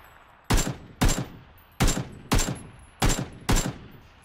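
Six sharp, loud gunshots in PUBG (PlayerUnknown's Battlegrounds), fired in two rapid double bursts with short decaying echoes, spaced about half a second apart.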